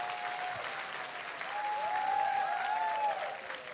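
Audience applause at a performance at YouTube FanFest Japan 2014, a steady dense wash of clapping lasting the whole stretch and swelling midway, with a faint tonal whistle or feedback line running through it.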